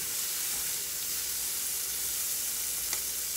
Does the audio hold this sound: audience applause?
no